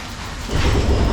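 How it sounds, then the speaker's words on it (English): Steady rain hisses in Bang Rak, Bangkok, then a deep rumble of thunder swells in and rolls on underneath the downpour. "the beautiful background sound of the rainfall"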